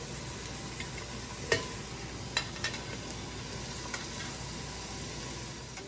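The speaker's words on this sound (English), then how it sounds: "I go ahead and saute the rest of the vegetables in avocado oil until they're tender" Vegetables sauté in avocado oil in a pan, a steady close sizzle with a few light taps and stirring clicks scattered through, no voices.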